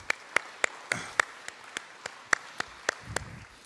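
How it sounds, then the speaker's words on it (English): Thin applause at a Pacers press conference with Victor Oladipo: a dozen or so evenly spaced, crisp hand claps at a steady rhythm over a quiet room, sounding like only one or a few people clapping. "Round of applause to yourselves."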